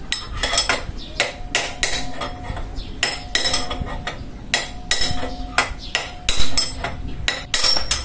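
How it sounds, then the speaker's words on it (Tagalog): A steering ball race on a Yamaha Mio scooter is hammered out with sharp metallic blows, struck alternately in irregular bursts, close and loud, with no talk. "Alternate lang po yung pagpukpok."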